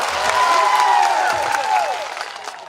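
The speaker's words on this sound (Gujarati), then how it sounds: "પોલીસ માટે એકવાર જોરદાર તાળીઓ પાડી લો" Crowd at a large public rally applauds the police, a sustained wash of clapping lasting a few seconds and fading slightly toward the end, with a voice or cheering tones mixed in.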